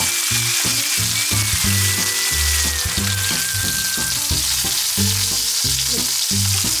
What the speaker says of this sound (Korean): 구우면서 꺼뭇꺼뭇 팬에 묻은 양념들을 고기에 묻혀주면서 구워준다고 해요